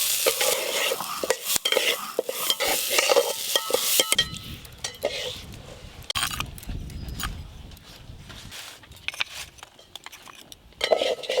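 Gobindobhog rice being fried and stirred in ghee with cashews in a pan, with a steady soft sizzle under repeated scraping and clinks of a spoon against the metal, close and without talk.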